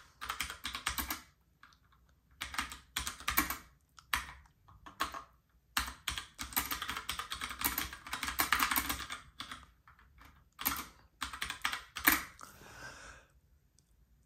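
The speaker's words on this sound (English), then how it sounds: "so the keys are very clicky" Very clicky keys on an Astrohaus Freewrite typewriter-style keyboard clatter in close, rapid bursts separated by short pauses, with no talking.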